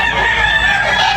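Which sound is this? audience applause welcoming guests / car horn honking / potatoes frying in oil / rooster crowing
rooster crowing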